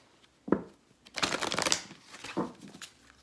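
A deck of chakra cards is shuffled close by: a quick flick, then a longer rapid riffle of fluttering card snaps, followed by another short shuffle.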